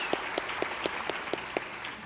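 An audience applauds with separate, evenly spaced claps at a moderate distance, quite faint and sparse rather than a full ovation, with no talking over it.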